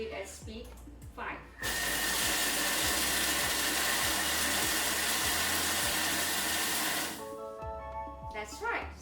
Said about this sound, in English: this blade will now go anti-clockwise, and we will do it at speed 5